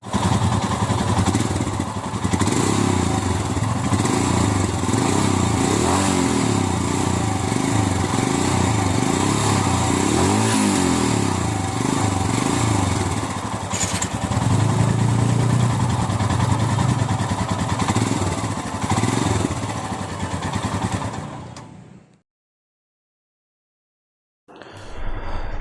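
A Royal Enfield Scram 411 motorcycle engine runs loud and close with a thumping idle and rising revs for about twenty seconds, then cuts to silence before restarting briefly at the end.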